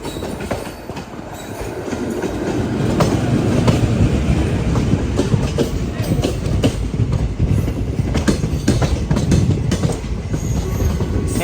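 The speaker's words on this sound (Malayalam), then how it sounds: "മംഗളൂരു ജംഗ്ഷൻ റെയിൽവേ സ്റ്റേഷനിലേക്ക് ഇതാ നമ്മുടെ ട്രെയിൻ എത്തിക്കൊണ്ടിരിക്കുകയാണ്" An SMVT Bengaluru–Murudeshwar express rolls into Mangaluru Junction station toward platform 3, a steady loud rumble of wheels with rhythmic clickety-clack over rail joints and occasional squeals, continuous for the whole stretch with no talk.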